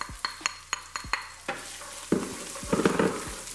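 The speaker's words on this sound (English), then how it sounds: "I just cranked up the heat. I'm about to add the onions back in the pan." Onions fry in a hot pan and are stirred, with several sharp utensil scrapes and taps near the start, then a rising, louder sizzle as the pan heats, close and without speech.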